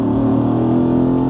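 Jeep Cherokee SRT engine revving hard against its rev limiter, a loud, close, buzzing drone with rapid stuttering pulses over about a second.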